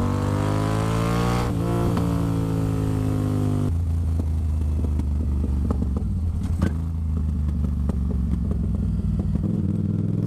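A loud motorcycle engine revs high and then drops, settling into a rough burbling idle with crackling pops as it winds down.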